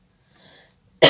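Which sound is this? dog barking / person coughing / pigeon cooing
person coughing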